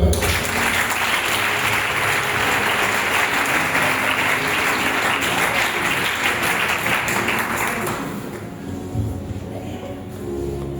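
A congregation at a spiritual retreat applauds to acclaim the Lord, dense clapping that holds steady for about eight seconds and then tapers off to scattered claps.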